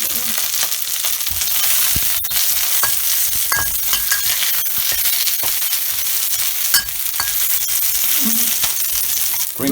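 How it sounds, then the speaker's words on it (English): White onion and green pepper fry in a pan for a Thai crab curry, a bright continuous sizzle punctuated by repeated scraping and clacking of a utensil stirring against the pan, close and busy throughout. "white onion and green pepper. Stir them till it starts to brown."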